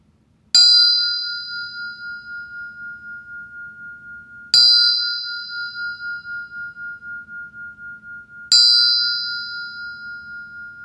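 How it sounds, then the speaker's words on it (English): A meditation bell is struck three times at even intervals of about four seconds. Each strike rings out clearly and decays slowly with a long shimmering tone over a quiet room. "So with that, I'll ring the bell."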